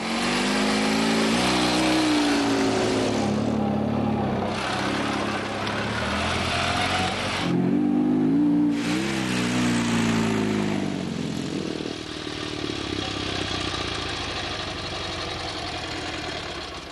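Vintage wartime motorcycle engine running on a cross-country ride, a loud, close, rough engine drone whose pitch rises and falls with throttle changes over about seventeen seconds.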